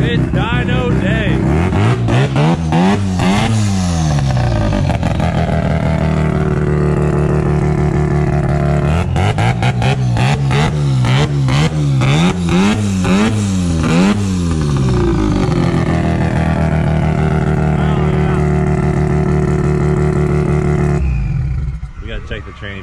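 A high-strung turbocharged rotary engine in a micro van revs hard on a dyno and holds at high revs, rising and falling in long sweeps with a whining roar, loud and close throughout.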